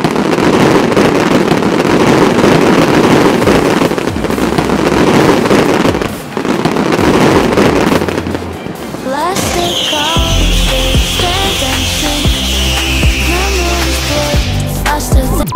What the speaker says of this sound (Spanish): Así es como se ven los fuegos artificiales diurnos.